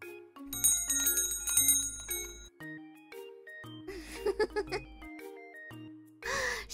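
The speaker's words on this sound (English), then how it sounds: "Shop's bell." A small shop bell rings in several bright, close metallic dings, with pauses between ringing bursts and some brief voice sounds.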